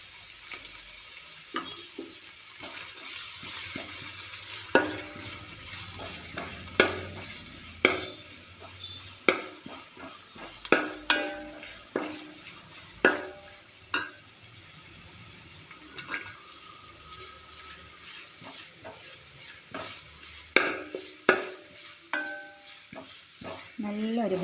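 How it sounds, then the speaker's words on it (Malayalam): Two thinly sliced onions fry in oil for a chicken dum biryani, a steady sizzle broken by sharp, irregular spatula scrapes and knocks against the pan as they are stirred toward golden brown. No one speaks. "ഇതൊരു ഗോൾഡൻ ബ്രൗൺ കളർ ആകുന്നത് വരെ ഒന്ന് നന്നായിട്ടൊന്ന് വറുത്തെടുക്കണം"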